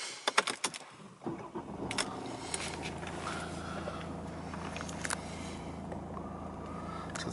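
A 2.1-litre diesel Mercedes-Benz C220 CDI AMG Sport cranks and fires, then settles into a steady low idle hum close by. Light clicks and rattles from inside the cabin sit over it.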